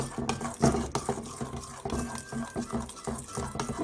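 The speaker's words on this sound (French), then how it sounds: "Je mélange." A spoon stirs a chocolate mixture just taken off a bain-marie for a Cailler chocolate molten cake, making irregular close scraping and sloshing strokes in a steady, busy rhythm with no voices.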